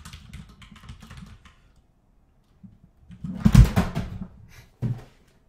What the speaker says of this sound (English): Try to move the keyboard a little bit. I'm sorry that it's so loud.